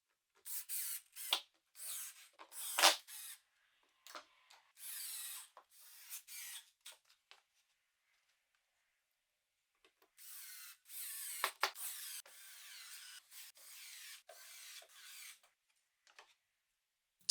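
Screws are driven into a wooden frame for a DIY TV feature wall: repeated short bursts of a power driver whirring, with pauses and small clicks between them, quiet and close, one long run of driving near the middle.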